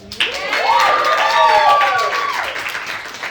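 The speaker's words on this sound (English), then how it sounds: "Give her a hand of applause now." A comedy show audience breaks into loud, steady applause, with voices whooping and cheering through the clapping.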